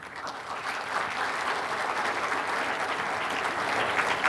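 An audience gives a dense, steady round of applause at a formal award ceremony for the 65th 3·1 Culture Prize, sustained and evenly loud with no talking over it.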